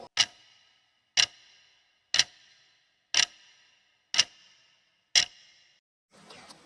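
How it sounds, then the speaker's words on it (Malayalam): A clock ticks six times, crisp and evenly spaced about a second apart, close and isolated against silence, followed by a faint rustle at the end. "ഉത്തരം ക്ലോക്ക്"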